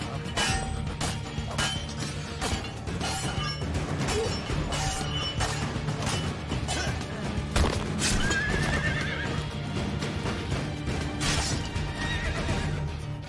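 Horse neighing and whinnying with clip-clop hoofbeats of a gallop in Assassin's Creed II, loud and close over a busy game soundtrack with occasional crashes and clinks.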